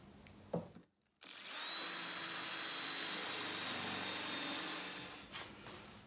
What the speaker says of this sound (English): I put a little depth stop tape on the drill, make sure I stop at the right spot.